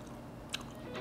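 Biting and chewing a thin, crispy cheese pork cutlet, with a couple of soft crunches and moist chewing close up over a steady background hum.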